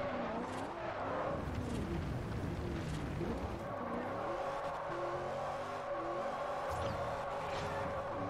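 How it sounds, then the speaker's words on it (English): Continuous squealing tires over a droning engine in Forza Horizon, with pitch sliding up and down as the car slides through turns. "tire noises are literally nonstop"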